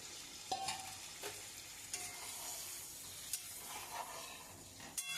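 Boiled meat stock poured into a simmering spicy gravy for chicken balls, giving a steady soft sizzle and bubbling hiss with light stirring clinks, close and continuous.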